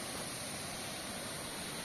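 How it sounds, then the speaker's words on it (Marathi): A village waterfall in the Konkan countryside near harvested paddy fields, a steady broadband rush of falling water that holds evenly loud and unbroken throughout with no voices. "आणि ते एक धबधबा आहे।"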